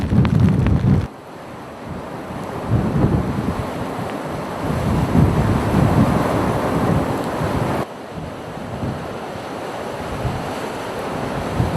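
Hurricane Earl's wind buffets during landfall: strong gusts roar and thump against the microphone in loud, surging waves, dropping briefly in a couple of places before rushing back in.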